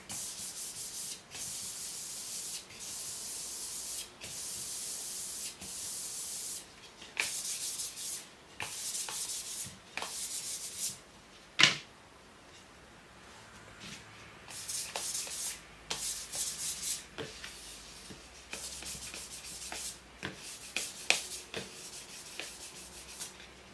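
Fondant being rubbed and smoothed by hand over a dummy cake, heard as repeated soft brushing strokes in an uneven rhythm, with one sharper tap partway through, close and fairly quiet, with no talk.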